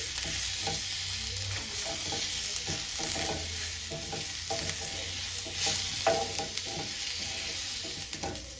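Spices for a chicken curry are stirred and fried in a pan, with steady bright sizzling throughout and repeated scraping strokes of a spoon against the pan, close and continuous with no talking.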